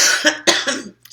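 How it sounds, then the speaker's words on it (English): A single person coughs several times in quick succession, loud and close, with a short rasping throat sound at the end and no speech. "I still got a little cough, but nothing like I was before."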